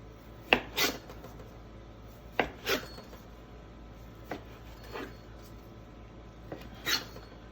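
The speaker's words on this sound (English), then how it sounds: "I just like to slice like nice little slices out of it" Tuna sliced with a sharp knife on a cutting board, several crisp cutting strokes in uneven pairs with quiet gaps between them, close and clear.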